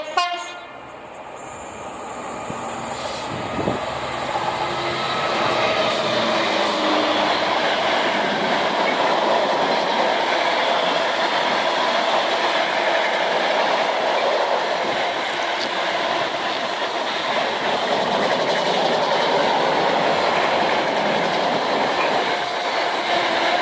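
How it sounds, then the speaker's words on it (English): A freight train of Toyota hybrid cars, heading from Toton toward the continent, rolls steadily past close by with a continuous rumble and clatter of wagons, a horn sounding near the start. "So, a lovely Toyota hybrid car train."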